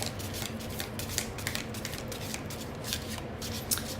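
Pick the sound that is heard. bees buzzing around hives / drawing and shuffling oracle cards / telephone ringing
drawing and shuffling oracle cards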